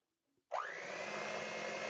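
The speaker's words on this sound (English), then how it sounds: "It's not a blender, it's a mixer." An electric kitchen mixer starts up after a brief faint click, its motor quickly spinning up to a steady, loud, continuous whirring drone that runs on unchanged to the end without any talk.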